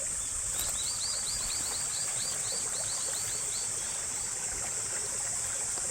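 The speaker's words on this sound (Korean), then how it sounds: "우리 밭에서 한 2, 30m 내려오시면 이 조그만 개울가가 이렇게 있습니다" A small creek runs below a farm field in the countryside, its steady gentle trickling and rushing water close and constant, with birds chirping repeatedly over it and a high insect drone behind.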